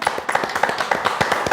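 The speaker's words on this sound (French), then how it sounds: "Qu'on l'applaudisse quand même." A studio audience at a French influencer TV show claps in a quick, uneven burst of separate hand claps, close and fairly loud, lasting only a moment.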